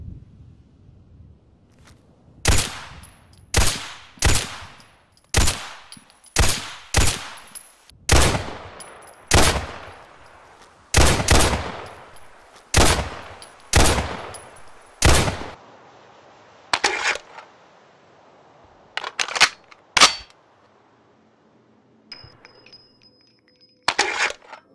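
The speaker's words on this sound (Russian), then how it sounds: "предлагаю вашему вниманию послушать, как пистолет звучит и какие у него анимации" Pistol shots from an HK Mark 23 SOCOM in a Fallout 4 mod: about a dozen sharp, loud reports fired singly at an irregular pace, each with a short decaying tail, followed by quieter metallic clicks and handling clinks.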